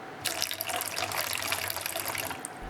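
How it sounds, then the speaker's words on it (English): Water poured from a container into a cup while preparing a plaster of Paris casting mix, a continuous splashing trickle lasting a couple of seconds, close and fairly loud. "Now on another cup add water"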